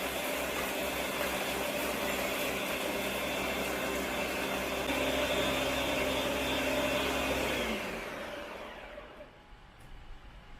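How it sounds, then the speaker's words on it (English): A powerful Ninja high-power blender motor roars steadily with a dense, grinding whir as it crushes ice, then winds down and fades near the end. "I'm going to put some ice in it and blend it."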